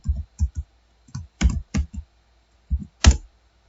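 Keys on a computer keyboard are struck while entering data into an Excel spreadsheet, a sparse, uneven series of close, crisp clicks with short pauses between them and no talk.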